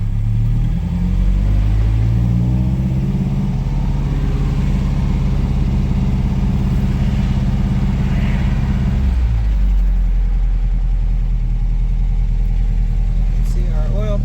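A 1960 MGA Coupe with front disc and rear drum brakes, its engine rumbling steadily and loudly from inside the car on a test drive, the drone dropping in pitch partway through as the car shifts or slows.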